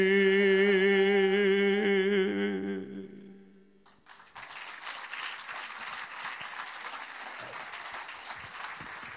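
A theatre audience applauds Marc-Olivier and Dorine: after a sustained musical tone fades out, dense steady clapping rises and continues to the end.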